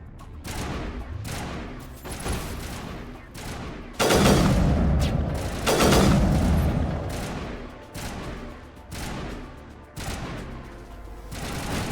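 Gunfire in the video game Mass Effect, repeated bursts and heavy shots in uneven clusters, loud and close, with the louder volleys in the middle and a voice speaking briefly.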